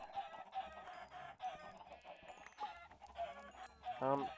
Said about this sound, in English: what I am going to do is axe this chicken population down a wee bit